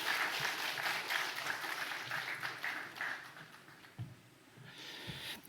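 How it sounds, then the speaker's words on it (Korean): A church congregation at a Sunday morning service claps in thanks, a steady wash of applause that thins toward the end into a few isolated claps and taps. "하나님 은혜 감사하는 박수 한번 드립시다"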